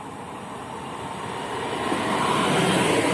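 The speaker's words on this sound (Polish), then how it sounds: "Odjeżdża pociąg relacji Koszalin Szczecin Główny" A passenger train on the Koszalin to Szczecin Główny service pulls out of Szczecin Dąbie station, a continuous low rumble that swells steadily louder over a few seconds, with no voices.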